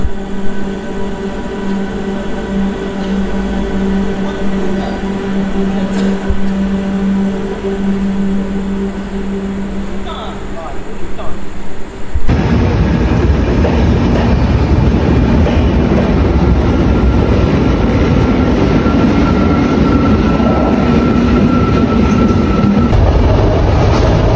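A train pulls in at Bagnan station in West Bengal, its loud, steady rumble and rail clatter filling the platform, with a low engine hum that shifts abruptly midway into a harsher, broader roar as the carriages roll close past.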